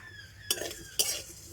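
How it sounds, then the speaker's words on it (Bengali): Vermicelli added to hot ghee in a pan and stirred, two quick scraping clinks of a spoon against metal over a faint low sizzle, close and brief. "আর এবার আমি ঘিয়ের মধ্যে সিমাইটা দিয়ে দেব।"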